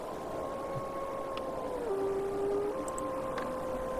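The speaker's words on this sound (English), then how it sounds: "you can hear wolves howling" Wolves howl in a wintry setting in the game Farthest Frontier, a long, steady, thin wailing tone that dips and holds, fairly faint and distant over a hissing ambient background.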